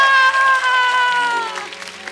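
Studio audience applause on The Kapil Sharma Show, a steady loud wash of clapping under sustained musical tones that gradually thins out.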